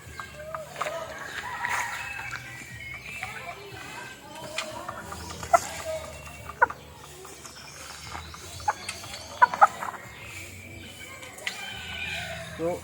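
Chickens clucking softly at a backyard coop after feeding, scattered short clucks and faint calls over a quiet background, with someone speaking intermittently nearby.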